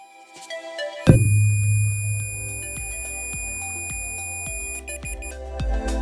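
Multimeter in continuity mode emitting a sustained electronic beep that starts abruptly after a second of quiet and holds steady, with light handling clicks and taps throughout.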